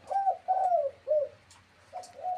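A decoy spotted dove kept under a blue cloth cover gives clear, close cooing calls: three drawn-out coos in quick succession, a short pause, then a softer final phrase, with no talking.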